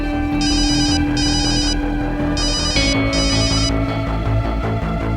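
An electronic telephone ringer trills in four repeated bursts over a steady background of TV-drama music, loud and close with no talking.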